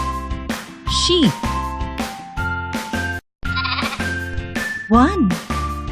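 A sheep bleats twice, quavering calls standing out over upbeat children's music with steady beats, one near the start and another near the end, with a voice talking in between and a brief silent gap midway.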